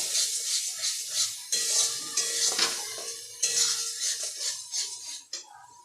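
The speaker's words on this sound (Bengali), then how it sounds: "এই পেস্টটাকে আমি ভালোভাবে ভেজে নেব যতক্ষণ না এর যে জল জল ভাবটা আছে ওটা শুকিয়ে যায়" Spinach paste frying in hot oil in a home kitchen, with a soft sizzle and repeated scraping and stirring strokes of a utensil against the pan, close and fairly quiet, no talking.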